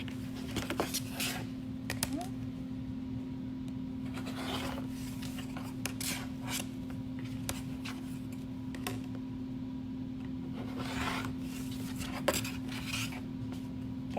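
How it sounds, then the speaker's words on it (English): Rotary cutter slicing fabric for a face mask cover, heard as faint repeated raspy cutting strokes over a steady low hum, no talking. "I'm actually going to use a rotary cutter."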